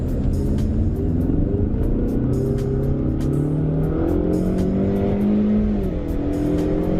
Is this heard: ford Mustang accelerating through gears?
yes